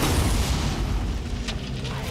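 A deep, sustained in-game boom from a triple arrow shot striking the moon in Far Cry Primal, loud and rumbling throughout with a heavy low-end roar that slowly tapers.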